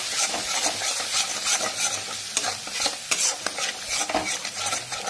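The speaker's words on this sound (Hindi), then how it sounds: "अब हम इसमें गैस के फ्लेम को लो करके इसमें दही डालेंगे और इसे हम इस तरह से चलाते रहेंगे" Spoon stirring yogurt into masala frying in a pan over a low flame, with a steady soft sizzle and irregular scraping strokes close by, no talking.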